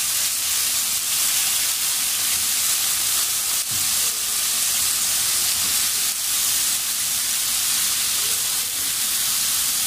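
Meat for carne a la mexicana browns in a hot pan, giving off a loud, continuous sizzling hiss that runs unbroken from start to finish with only slight flickers in intensity.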